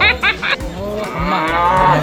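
A cow at Pobitora Wildlife Sanctuary gives a long, loud, close moo that swells and holds, with a few brief sounds and faint voices at the start.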